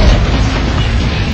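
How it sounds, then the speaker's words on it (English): An explosion in the video game SpyHunter: Nowhere To Run, a loud, heavy, low rumbling blast that fills the whole moment with no talking over it. "Well, what a explosion."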